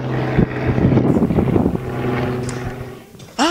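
A helicopter passes overhead outdoors at a school end-of-year gathering, its loud rotor drone and wind buffeting fill the clip, and a voice cuts in briefly at the end.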